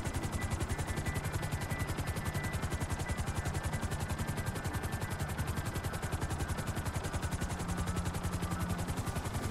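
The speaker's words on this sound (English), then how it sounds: "Do not want to crash this helicopter" A helicopter flies in the video game Grand Theft Auto V, its rotor chopping in a fast, steady rhythm that stays loud and close for the whole stretch, with no talking.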